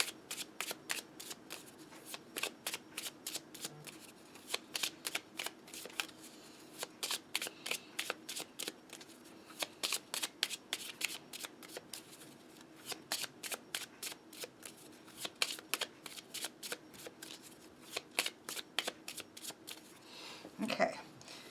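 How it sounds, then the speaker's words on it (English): A Lenormand card deck is overhand shuffled in repeated quick riffling bursts, close and crisp, in an irregular rhythm throughout, with a faint voice in the background. "if you are an overhand shuffler, you will quite like this."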